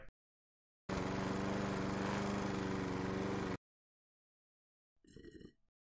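Engine drone of a lawn mower in a lawn-mowing video game, a steady loud run for about three seconds that cuts off sharply, followed by a brief quieter burst of engine sound.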